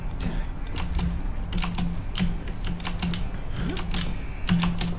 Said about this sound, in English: You might also notice that my keyboard's probably like the loudest thing you've ever heard in the world.